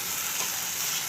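Dried koduva fish thokku sizzles steadily in a pan over a high flame, a continuous close hiss of frying with faint stirring and no voices.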